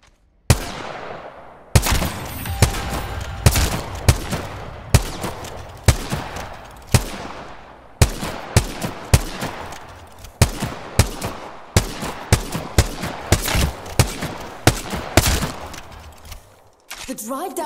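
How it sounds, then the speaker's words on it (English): Gunfire in Apex Legends: a long run of loud, sharp shots, some single and some in quick bursts, with brief pauses and a voice now and then. "Stop thinking and shoot."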